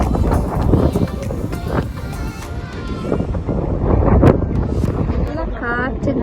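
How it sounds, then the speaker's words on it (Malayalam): Strong wind near Jebel Hafeet in Al Ain buffets the microphone with a loud, constant rumble while a person talks over it. "നല്ല കാറ്റ്, നല്ല കാറ്റുണ്ട്."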